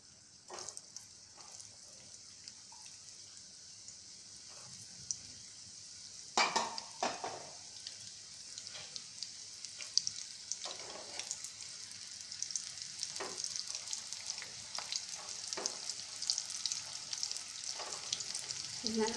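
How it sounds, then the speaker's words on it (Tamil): Slices of bitter gourd deep-fry in hot oil as chips, a steady crackling sizzle that swells with sharper bursts each time more pieces drop in, with faint stirring clinks. "இதை நம்ம ஒவ்வொன்றா போட்டு இது மாதிரி பொரிச்சு எடுத்துடலாம்."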